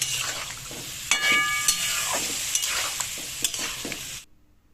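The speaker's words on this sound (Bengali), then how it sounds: "গ্যাসের স্টিমটাকে লো করে আমি ভালো করে কষিয়ে নেব সামান্য সামান্য করে জল দিয়ে মশলাটা কষাতে হবে" Spiced masala for a hilsa fish curry with aubergine and nigella seeds being stir-fried over low heat with splashes of water, a steady close sizzle with repeated scraping and stirring strokes, ending abruptly.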